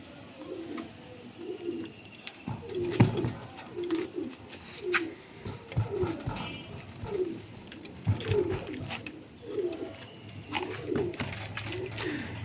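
Two young teddy pigeon chicks cooing close by, soft repeated throaty coos in a regular rhythm about once a second, with occasional faint clicks and rustles in a quiet room.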